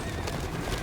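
A horse in a fast-paced action video game gives a short neigh over clip-clopping hooves, one brief, moderately loud burst within the game's busy background noise.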